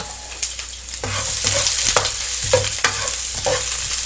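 A ladle stirs spicy squid seafood ramen cooking for five in a pot, giving repeated close scraping and sloshing strokes over a constant bright sizzle, with no talking.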